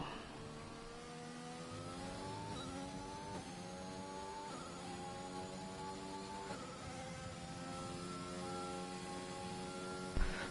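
A race car engine screams through a hot lap in a racing video game, revving high and steady, its pitch climbing and then dropping briefly at each gear change, roughly every second or two, with no voices.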